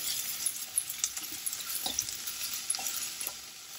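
Finely chopped onion and green chilies fry in a pan, a steady close sizzle broken by light stirring scrapes.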